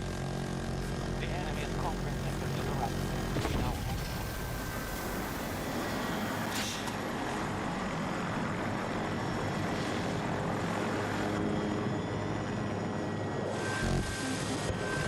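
A jet aircraft engine roars in the video game Battlefield 2042, a steady loud whine and rumble lasting throughout with shifting pitch, under occasional game noise.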